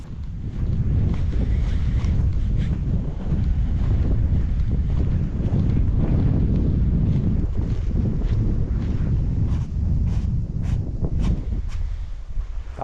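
Strong wind buffets the microphone at Bareti Lake on a cold, windy day with patches of snow, a steady loud low roar with gusting rumble throughout and no voices.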